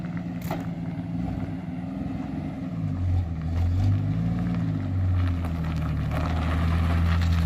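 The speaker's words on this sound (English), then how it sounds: "Yeah, the old slant 6 runs nice." An old Chrysler slant six engine idles steadily nearby, a low rumbling drone that swells slightly louder partway through and holds on without any talk.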